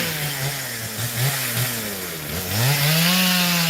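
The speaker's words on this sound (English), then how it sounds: "because of the loudness of the chainsaw" A chainsaw clearing farm land runs loud and close, its engine revving up and dipping in pitch before settling into a steady high roar, with no voices.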